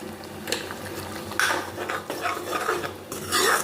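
A potato, tomato and pea curry with spice paste and turmeric cooking in a pot, heard as metal spoon stirs and scrapes against the pot over a faint simmering sizzle, close and intermittent.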